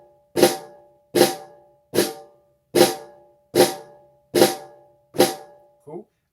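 A drum struck with flam strokes, each grace note landing just before the main hit, repeated seven times at an even, steady pace, close and crisp, followed by a softer final hit.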